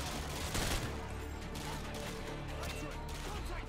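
Continuous dense gunfire from Call of Duty: Modern Warfare 2 fills the whole stretch, with sharp rapid shots and clattering impacts layered thickly and close, mixed with game background noise.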